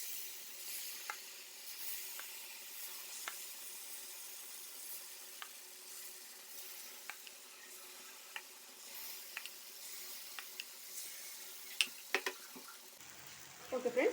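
Banana appe batter sizzles in ghee in an appe pan over a medium flame, a faint, continuous crackling hiss dotted with small pops and light clinks, ending with some clatter.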